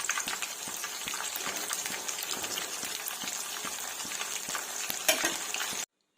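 Nellore-style chicken pakodi deep-frying in hot oil, a dense, close crackling sizzle with frequent stirring taps and clinks throughout, ending abruptly in silence.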